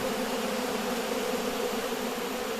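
Honey bees swarm near a hive, their dense, steady buzzing loud and close for the whole stretch with no other sounds or voices.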